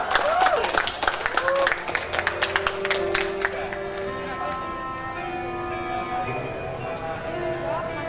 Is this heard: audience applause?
yes